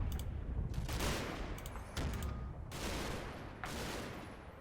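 Bursts of Sten submachine gun fire in the World War II game Combat Mission, several short rattling volleys in a row against a steady background of distant battle noise.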